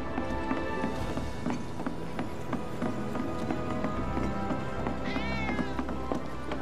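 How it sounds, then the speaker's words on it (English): Cat meowing in the video game Final Fantasy VII Remake, a rising high meow near the end over steady game background music and ambient sounds, fairly faint and alone without talk. "did you hear that just now? I think one of Betty's cats might be nearby."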